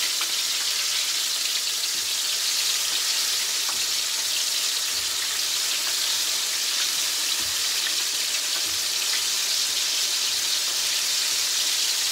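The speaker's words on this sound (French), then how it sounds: "Vous entendez le bruit de la friture" Apple beignets and donuts fry in hot oil, a continuous dense hiss and crackle like steady rain, close and uniform throughout with no one speaking.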